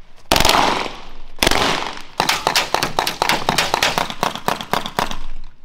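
A blank-firing gun on a film set firing loud, sharp shots up close, first two single blasts and then a rapid irregular burst of about a dozen cracks.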